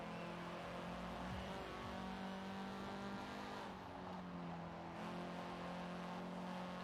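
Steady engine drone from a car being driven in Forza Horizon 4, holding a fairly even pitch with slight shifts and faint tire noise, continuous and unaccompanied by talk.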